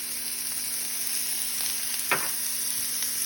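Onions and minced garlic sizzling in olive oil in a pan, a steady close frying hiss throughout with a brief louder stir partway through.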